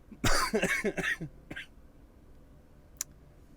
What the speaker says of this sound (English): I'm too healthy to be coughing like that